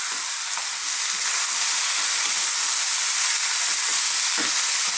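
Canned pinto, black and cannellini beans tipped into a pan of vegan vegetable chili set off a loud, close, continuous sizzle and hiss of frying, with faint stirring scrapes.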